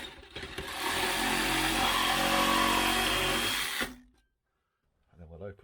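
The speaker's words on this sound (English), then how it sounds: "Reciprocating saw." A reciprocating saw cuts through rusted steel on the rear wing of a 1993 Range Rover LSE, giving a loud, continuous buzzing rasp for about three seconds before it stops, with faint talk afterward.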